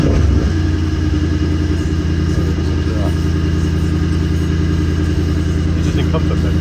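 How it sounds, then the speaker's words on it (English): A Mercedes E63 AMG engine fires up and settles into a deep, steady idle in comfort mode, loud and close throughout, with a person talking over it. "Let's start the engine."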